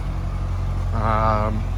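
A 2019 Corvette Grand Sport 2LT convertible with its exhaust set to track mode gives a steady, loud engine idle that swells briefly into a rising rev partway through, heard close up.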